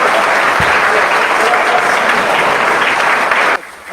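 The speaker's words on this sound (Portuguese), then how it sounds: "quer aplaudir? Aplaude." Steady audience applause fills a church gathering on child inclusion, loud and dense for most of the stretch, then drops abruptly near the end to a softer patter.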